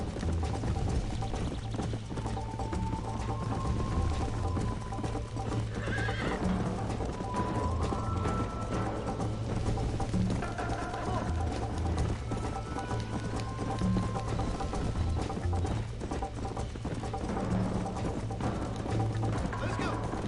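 Horse hooves clip-clop at a steady gallop with repeated neighs and whinnies from a video game Wild West ride, layered over continuous game ambience and background music, with a voice talking over parts of it.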